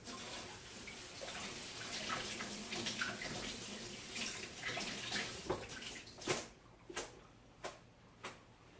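Enoki mushrooms rinsed under a running kitchen tap: a continuous splashing stream of water that gives way to a few separate drips and small splashes near the end, with no talk.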